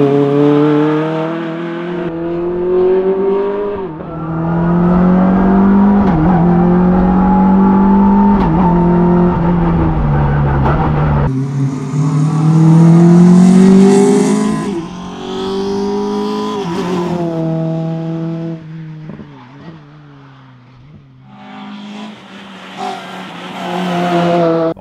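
A Caterham sports car engine accelerates repeatedly on a rally driving outing, loud rising revs with gear shifts and brief lifts off the throttle, close and with no talking.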